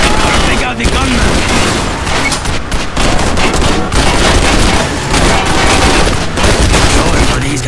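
Sustained gunfire and explosions from an on-foot or car-chase shootout in the Wheelman video game, dense and loud throughout with rapid overlapping shots and booms, while a voice talks over the action.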